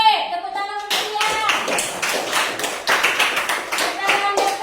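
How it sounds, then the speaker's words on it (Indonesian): A group of people breaks into applause after a sustained tone, with a dense, steady clatter of many hands clapping close by that continues for several seconds. "tepuk tangan untuk dia."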